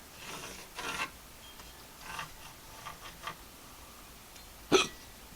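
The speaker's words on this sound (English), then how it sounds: "I have the hiccups while I'm doing this." Hiccups from a person carving a No. 7 or Wirlki rabbit stick, a few soft ones early and one sharp, close hiccup near the end, with faint handling noises between.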